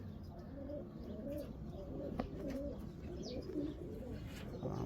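Racing pigeons back from a 1000 km race from Sakaka coo steadily in a loft, soft low burbling calls repeating and overlapping, with faint chirps above a constant background hum.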